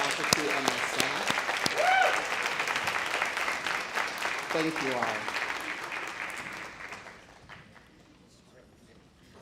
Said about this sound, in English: give a round of applause to our faculty and our staff